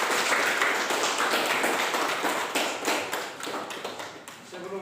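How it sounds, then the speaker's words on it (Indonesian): A classroom of students applauds at the end of a lesson, a steady, fairly close burst of clapping that thins toward the end, with a few voices underneath. "Mari kita beri tepuk tangan."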